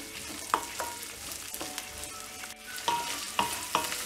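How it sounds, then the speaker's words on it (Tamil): Onions frying in a pan for drumstick sambar, a steady close sizzle with a few sharp pops and stirring clicks, no talking. "இந்த வெங்காயத்தை நல்லா ஃப்ரை பண்ணி விடலாம்."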